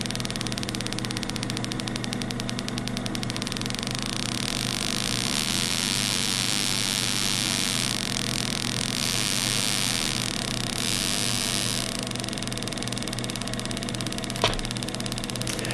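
An Arduino-driven coil-on-plug ignition coil fires steady sparks at a controlled rate, giving a continuous buzzing, crackling hiss over a mains-like hum, close and fairly loud with no talk.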